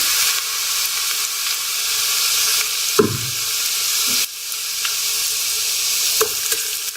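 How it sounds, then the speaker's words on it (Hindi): Garlic and ginger paste masala frying hard in a karahi, a loud continuous sizzle with a couple of knocking stirs from a spoon against the pan. "हल्का सा फ्राई कर लें।"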